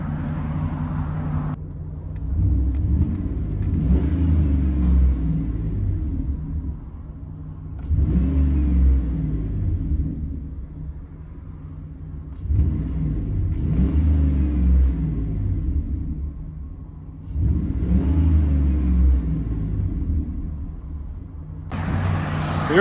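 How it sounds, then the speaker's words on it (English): Deep, loud exhaust rumble of a 1998 Dodge Dakota R/T 5.9L V8 with Flowmaster 40 Series dual exhaust and stock converter, heard from inside the cab, rising in repeated accelerating surges with short lulls between pulls. "Dodge Dakota RT V8 with Flowmaster 40 duals, stock converter."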